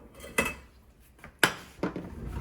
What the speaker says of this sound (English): And I'm going to get my little frying pan out from my drawer